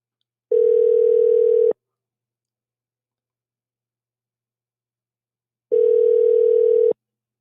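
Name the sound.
telephone ringing while waiting for someone to answer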